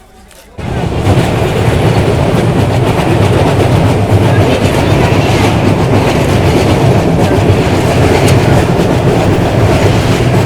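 The 11061 Pawan Express passenger train runs close and loud. A brief quiet start gives way to a sudden, continuous heavy rumble and rattle of rolling coaches that holds steady for about ten seconds.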